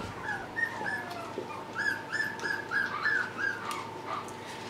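One-week-old puppies, including a black cream dapple male, whimpering and yipping in a string of thin, high cries close by, with a faint steady hum underneath and no talking.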